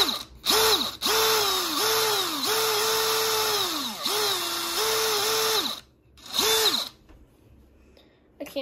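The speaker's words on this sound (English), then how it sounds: "Okay, now going to drill again." A power drill whines in repeated bursts, pitch dipping as it bites into a block of wood, with short pauses between runs and a brief stop near the end.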